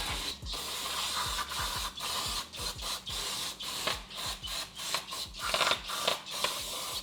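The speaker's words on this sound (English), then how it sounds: "I'm gonna go ahead and clean this area real quick with the brake cleaner." Brake cleaner hisses from an aerosol can in short repeated bursts onto the front brake area of a 2016 Dodge Journey SXT, close and fairly loud, with mechanical clicks and rattles in the background and no talking.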